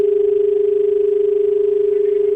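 A steady, unbroken telephone line tone hums on an open line after a caller's call dropped during a live TV health call-in program. The tone holds at an even loudness with nothing else heard.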